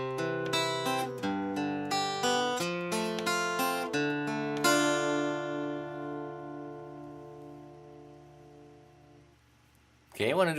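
Acoustic guitar plays the four chords of a song as arpeggiated, picked notes, the last chord ringing out for several seconds before a brief scrape of strings at the end.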